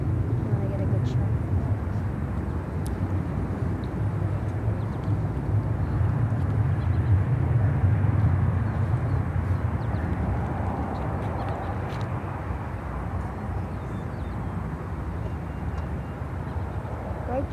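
A jet airliner roars steadily as it comes in to land at Chicago O'Hare Airport, a broad distant rumble lasting throughout, with voices speaking over it.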